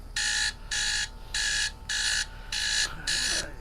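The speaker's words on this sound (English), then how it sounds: "There's the timer." A loud electronic timer alarm beeps in five or six evenly spaced bursts of harsh buzzing tone, close by, with faint background noise and no clear speech.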